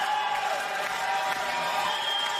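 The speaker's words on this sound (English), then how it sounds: "Listen to that Bendigo crowd." A Bendigo Spirit basketball crowd roars steadily through a tense late moment of a WNBL finals game in Townsville, a dense, loud wash of cheering that never lets up.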